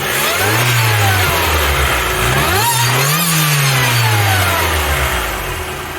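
A supercharged Mazda MX5 engine with twin throttle bodies revs up close by, several rising and falling blips over a steady idle, loud and alone.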